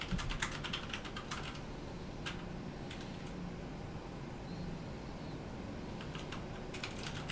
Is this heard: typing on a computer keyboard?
yes